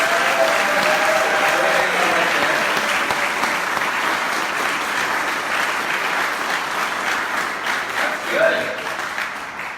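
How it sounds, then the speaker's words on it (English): Audience applause fills a pitch competition hall, sustained, dense clapping from a sizable crowd that stays loud and steady throughout, with a brief swell near the end. "I want you to give me your biggest round of applause as if it was you coming up."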